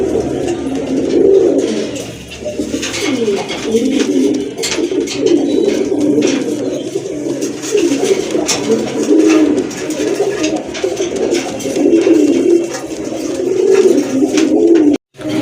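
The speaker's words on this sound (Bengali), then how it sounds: "অসাধারণ এক জোড়া কবুতর, এটা কিন্তু ডিম বাচ্চা করানো একটা পেয়ার" A breeding pair of pigeons coos continuously close by, with deep rolling calls that repeat in waves over a constant room background.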